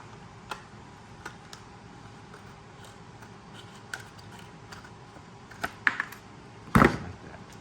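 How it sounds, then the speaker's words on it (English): Scissors trim a clear plastic window piece for a 1/6 scale Batmobile model kit, giving a handful of sparse, close snips over a quiet background, with the final cut the loudest. "I believe I will try to use the scissors."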